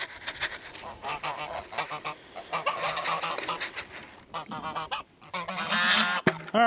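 Several geese honk loudly and repeatedly at close range, their calls overlapping in a noisy, continuous chorus.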